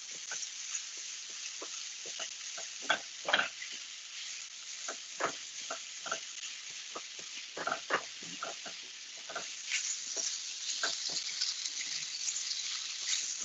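Italian sausage browning in a pan while a spatula breaks it into smaller pieces, giving a soft, steady sizzle with scattered scraping and stirring taps, fairly quiet throughout.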